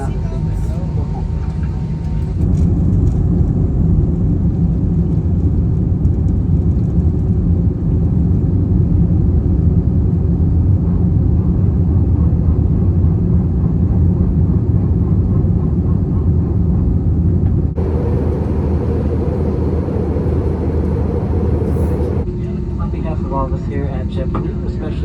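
A JetBlue airliner taxis toward the runway, heard from inside the cabin as a steady, loud engine rumble and broadband whoosh that holds throughout with slight shifts in pitch.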